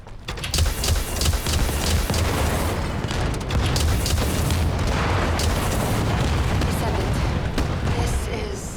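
Heavy booming blasts and rapid gunfire pound without pause through dense combat against a Legion Special Assault Ship in The First Descendant, loud and continuous, with a voice faintly beneath the din.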